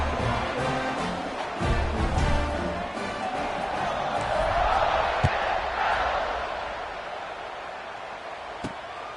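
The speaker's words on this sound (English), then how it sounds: "They're set to kick it off, and this crowd now ready to get behind them." A football stadium crowd roaring at kickoff, a broad distant swell of cheering that builds and fades over several seconds, with faint commentary underneath.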